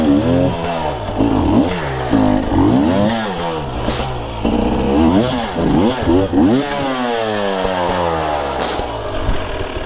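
Dirt bike engine revving hard and rising in pitch as the rider lifts the front wheel, loud and close with rapid throttle swells throughout.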